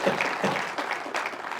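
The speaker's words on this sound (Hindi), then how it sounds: "अब आप तालियां बजा दो" A poetry recital audience gives a brief burst of applause, quiet and a little distant, with scattered claps fading in and out over about a second and a half.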